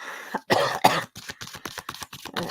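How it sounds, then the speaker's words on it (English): A person coughs repeatedly in a rapid series of harsh, close bursts, with a throaty clearing sound mixed in. "still coughing."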